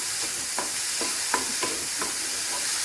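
Sliced onion and capsicum sautéing in a pan for paneer pepper fry, giving a steady close sizzle with a regular series of light spatula scrapes and taps, no talk.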